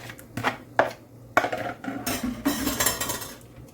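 A utensil scrapes and clanks against a pan as leftover BBQ sauce is pushed out onto ribs, giving several sharp metallic knocks and scrapes in an irregular rhythm, close up.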